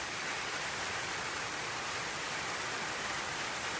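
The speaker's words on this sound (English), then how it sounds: "The weather turns on us right after we set up camp, with rain and even a short period of hail" Steady rain drums down at a campsite in a dry riverbed, a dense, even hiss that fills the whole stretch without pause, close and continuous.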